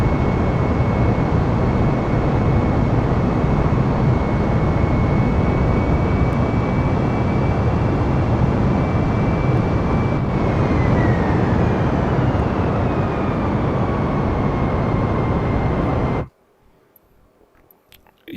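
A flight-simulator plane takes off down a runway with a loud, steady engine roar. A whining tone slides lower partway through, and the sound cuts off abruptly near the end.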